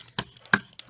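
Speedball brayer rolled on an ink pad, a few sharp tacky clicks and rolling rasps in quick irregular bursts, close and fairly faint.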